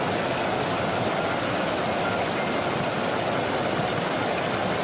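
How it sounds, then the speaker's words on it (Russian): Hail pours down steadily on a football match, a dense, continuous hiss and patter with no let-up. "Не дождь, а именно град"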